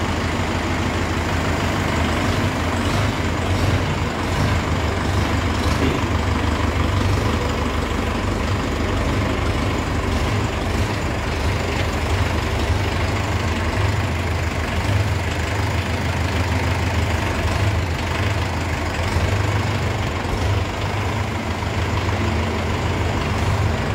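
Mahindra 585 Yuvo Tech Plus 4x4 tractor engine running steadily, a loud, close, continuous diesel rumble with a heavy low throb that holds constant throughout.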